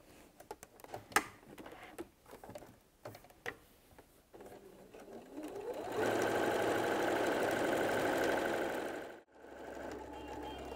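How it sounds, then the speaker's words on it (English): A sewing machine stitches around the edge of a fabric BBQ roll mat, with a steady mechanical whir that runs for about three seconds before stopping abruptly. Scattered clicks and handling noises from the fabric come before the stitching starts. "And then we'll sew all the way around."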